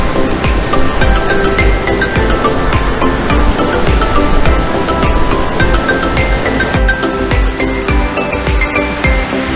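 Thooval waterfall in Idukki, a dense continuous roar of rushing, falling water heard up close, loud and unbroken.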